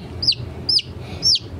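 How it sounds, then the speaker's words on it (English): Three high, clear peeping chirps from baby chickens, evenly spaced about half a second apart, over a low rumble of background noise. "We are going to make sure these baby chickens are hydrated."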